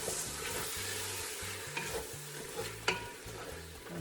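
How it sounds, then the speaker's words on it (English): Diced tomatoes mixed into a tortilla-less soup in a pot, a soft low sizzle under repeated scraping strokes of a spoon and a single sharper clack, close and quiet with no voices. "Give it a quick mix."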